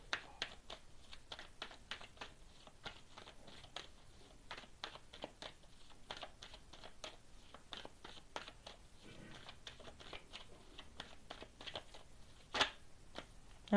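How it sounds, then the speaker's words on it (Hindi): Tarot cards being drawn from a deck: faint, quick taps, flicks and soft crinkles of card stock recur irregularly throughout, close but quiet. "तो यहाँ पर मैं कार्ड्स निकाल रही हूँ।"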